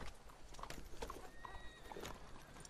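A horse on a Spanish-speaking street scene gives steady clip-clop hoofbeats throughout, with a couple of short whinnies rising near the middle, moderately close over a low background rumble.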